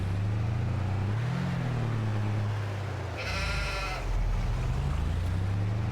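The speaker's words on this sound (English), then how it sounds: "Well, it's good to see that we've got sheep." Sheep in Farming Simulator give a single short bleat in the middle of a steady low engine drone, moderately close and fairly quiet.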